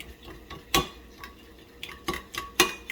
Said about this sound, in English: now stir it all together